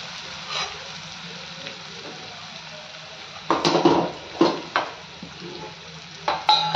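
Dry spices hit hot oil with curry leaves in a dal tadka pan, giving a soft background sizzle. A spoon scrapes and stirs in several sharp bursts toward the end.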